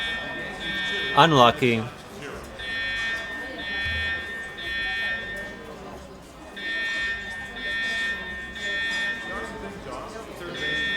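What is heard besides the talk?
store fire alarm system being tested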